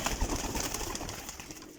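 A tumbler pigeon, a dumchir breed with white plumage, coos softly and repeatedly in a close, continuous murmur with no talk over it.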